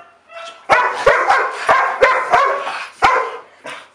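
A dog barks sharply and loudly close by in a veterinary clinic in Atlanta, about seven rapid barks in an uneven burst with short gaps, nothing else heard.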